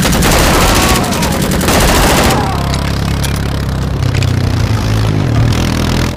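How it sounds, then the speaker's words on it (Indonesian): A toy pistol fires in a Jurassic World dinosaur cleaning game, loud rapid bursts of electronic shots in fast succession that cut off after two seconds, leaving a lower rumbling whir until an abrupt end. "Wow, pistol mainan, teman-teman."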